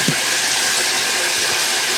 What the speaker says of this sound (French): Je vais faire mes légumes, je vais mettre un peu d'eau.